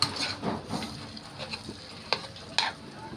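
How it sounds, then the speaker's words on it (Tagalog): Food being stirred and mixed in a pan, with scraping strokes, light sizzling and a few sharp clinks of the utensil against the pan, close and fairly quiet, without talk. "I-mix ko na, guys."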